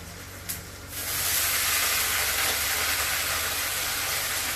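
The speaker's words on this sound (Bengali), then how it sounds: "এখন পুঁই শাকগুলো দিয়ে দেবো" Malabar spinach tossed into potatoes frying in a pan, setting off a loud, steady hiss that swells after a brief quieter start and holds evenly throughout.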